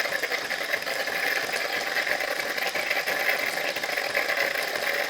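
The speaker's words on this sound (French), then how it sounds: "Donc, on va avoir 10 secondes d'eau chaude qui va circuler à l'intérieur." A Krups Evidence coffee machine runs hot water through its milk system for about ten seconds, a steady mechanical whir and pump buzz with a fast rattling pulse, close and continuous without talk.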